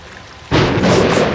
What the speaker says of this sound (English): Fucking thunder.